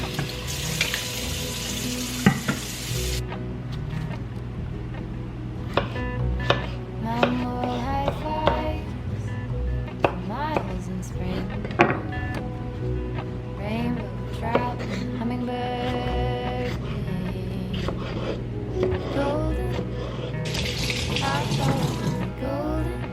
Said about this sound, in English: I'm just gonna go ahead and wash all of these strawberries so they're all washed for whenever I need them